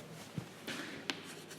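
Marker writing on a classroom board during a C programming lesson, a few brief faint scratchy strokes and taps against quiet room tone, with no talking.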